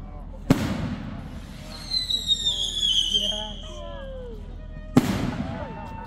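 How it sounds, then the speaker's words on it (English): Fireworks set off at a bonfire night: two sharp, loud bangs several seconds apart, with whistling, crackling rocket trails rising between them and voices in the background. "blasting the fireworks down."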